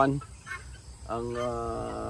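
A flock of about seventy chickens on a morning farmyard gives harsh cackling, honking calls close by, one call running into the next.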